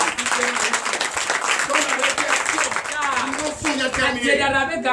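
A church congregation at a Sunday worship service in Comè, Benin, claps and acclaims, with scattered hand claps under overlapping voices and what sounds like singing or shouting throughout.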